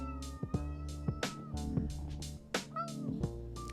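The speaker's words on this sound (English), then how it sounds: "my cat is roaming around" A house cat meows repeatedly and close by, about six drawn-out, rising-and-falling cries in a loose rhythm, alone over a low steady hum.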